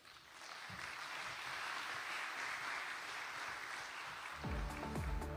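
Audience applause at a school's 100th anniversary ceremony in Korea, a steady broad clapping texture sustained throughout at moderate level, swelling louder near the end.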